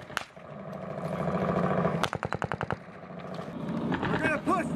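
Machine gun fire during Marine live-fire tactics training, a rapid burst of evenly spaced loud shots in the middle, with shouting voices and outdoor commotion around it.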